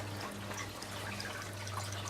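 Water draining out of the top grow bed of an aquaponic system through a bell siphon, a steady low gurgling rush with faint trickling, continuous and fairly close, with no voices.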